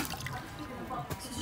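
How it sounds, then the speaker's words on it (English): Water drips and splashes while dyed fabric is rinsed out by hand at a sink, soft, close, irregular wet sounds at low level. "And then I'm gonna rinse that out like so."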